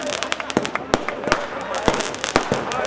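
Fireworks crackle and pop in rapid, irregular bursts at a Hari Kirtan festival, several loud close bangs among smaller crackles, with a voice speaking over them.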